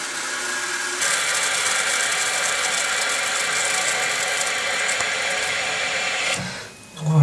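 Water rushes steadily into a toilet cistern through a new fill valve for several seconds as the float rises, then the flow stops abruptly and a faint gurgle follows at the end.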